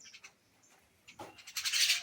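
A pet myna gives a few short chirps, then a louder burst of harsh, raspy calls near the end, close and alone with no talking.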